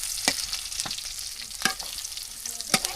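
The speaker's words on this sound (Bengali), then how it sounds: "দেখতেই পাচ্ছেন খুব সুন্দরভাবে কিন্তু আমরা ভেজে নিচ্ছি পেঁয়াজগুলা পেঁয়াজ মরিচ তো হয়েছে" Onions and chilies frying in a pan over a village clay stove, a continuous close sizzle broken by several sharp spoon clanks at irregular intervals, no voices.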